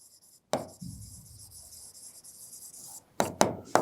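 Marker or chalk scratching on a board while working a cash flow statement problem, a few rubbing strokes and then sharper taps near the end, close and moderately loud.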